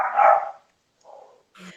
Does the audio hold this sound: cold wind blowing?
no